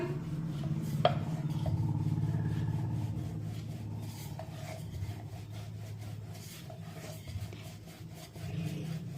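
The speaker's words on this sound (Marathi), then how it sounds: "याला लाटून घेऊया" Wheat flour dough dusted with dry flour being rolled thin into a chapati with a rolling pin: continuous soft rubbing and rolling scrapes with occasional light knocks, close and steady, with no talking.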